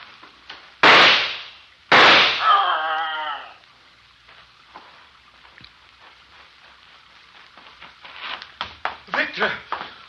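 Two sharp, loud gunshot sound effects in a 1952 Suspense radio drama adaptation of Frankenstein, the second followed by a trailing animal-like cry, then quieter scattered movement and rustling with faint voices.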